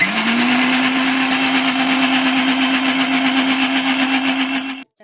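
A mixer grinder whirs loudly and steadily at high speed grinding lentil batter for dosa, then abruptly cuts off at the end.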